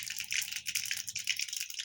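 Mustard and cumin seeds crackle and pop in hot oil for a home-style stuffed green vegetable dish, a dense run of sharp, rapid spattering bursts, close and fairly quiet.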